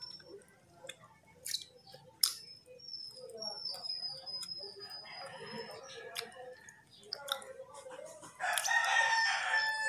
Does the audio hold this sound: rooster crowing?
yes